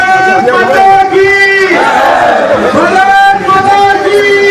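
A large crowd chants a patriotic slogan in loud unison, with a leader's voice driving the call, at the opening ceremony of a junior boys national handball championship.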